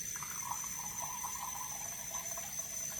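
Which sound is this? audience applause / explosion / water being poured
water being poured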